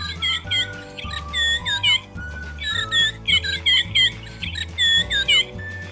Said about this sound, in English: It even sounds like a real blackbird's call.